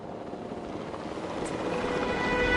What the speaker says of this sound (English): We have a helicopter standing by,